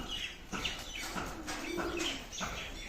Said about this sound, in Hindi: कबूतरी हैं ये, मादी हैं ये गोल्डन